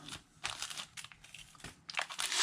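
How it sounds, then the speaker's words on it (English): Scrap paper being torn into a strip and handled, giving close, crisp crinkling and ripping bursts in several quick spurts, with the loudest rip at the end. "And then I'm going to tear away my strip."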